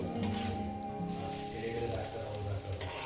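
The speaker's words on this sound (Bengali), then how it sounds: "এটা আর এক থেকে দেড় মিনিট ভেজে নেবো" Rui fish belly pieces fry in a pan with a close, steady crackling sizzle that carries on unbroken for a few seconds over a faint low hum.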